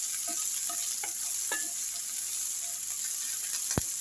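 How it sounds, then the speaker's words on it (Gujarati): Garlic and ginger frying in a pan give off a steady hiss, with a few soft scrapes of stirring and one sharp tap near the end and no talk. "લસણ અને આદુ એને થોડી વાર આપણે હલાવશું ને ચડવા દઈશું।"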